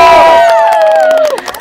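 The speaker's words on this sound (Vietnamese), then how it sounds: "Một tràng pháo tay cho tất cả chúng ta." An audience at a company evening event cheers and shouts loudly in a sudden close burst, the voices rising together and then fading quickly.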